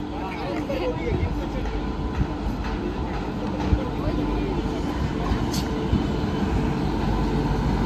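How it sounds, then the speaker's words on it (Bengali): A train pulls into Panagarh station, a steady heavy rumble and clatter of rolling wagons filling the platform while a person talks over it. "এই যে ট্রেন ঢুকছে আমার"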